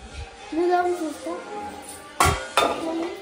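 Dishes and oily pans being washed and scrubbed in a home kitchen, with clinking cutlery and two sharp clattering knocks of pots, under a child's and adult's voices talking.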